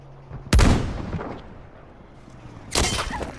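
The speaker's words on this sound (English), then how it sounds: "He's using the AT rifle as well. And just put it out. It's really powerful, has a lot of recoil" Two powerful AT rifle shots ring out in Battlefield V, each a sharp, loud boom with a rolling decay, spaced about two seconds apart.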